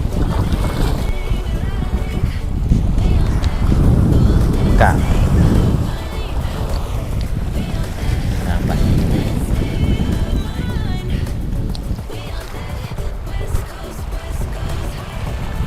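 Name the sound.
wind at a Thai beach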